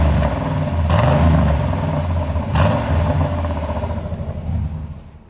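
A Chevy truck engine fitted with old Mustang mufflers revs up close by, rising in a couple of throaty swells over a rumbling idle before settling and fading.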